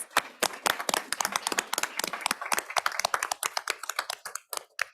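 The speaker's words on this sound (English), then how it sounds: "Let's give them a big round of applause." A small audience at a school board meeting claps for student athletes, with sharp, distinct hand claps in an uneven, fairly close pattern that thins out toward the end.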